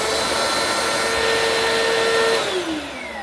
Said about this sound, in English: How about that for a little baby vacuum?